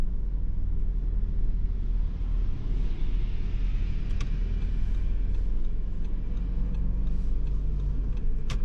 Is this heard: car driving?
yes